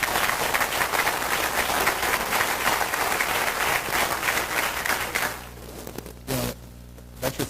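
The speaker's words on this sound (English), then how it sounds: "That's your first applause of the night" An audience at a talk on Illinois politics breaks into loud, sustained applause for about five seconds, then it cuts off abruptly into quieter room noise with a couple of brief sounds.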